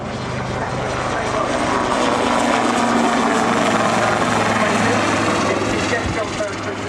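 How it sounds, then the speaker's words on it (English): Loud, steady rotor chop and engine roar of two grey military helicopters flying low and close at an airshow, a dense droning wash that fills the whole clip. "There are 2 very interesting grey-looking choppers coming right at us."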